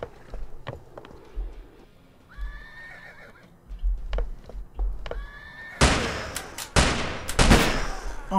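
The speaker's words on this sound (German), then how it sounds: "das blöde Pferd war im Weg" A horse in a video game whinnies twice in rising, wavering calls, set among sharp gunshot bursts and hoof clatter. Loud cracks dominate the second half.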